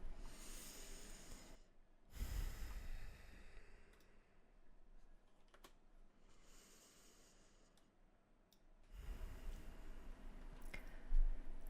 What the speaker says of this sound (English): Deep breaths here.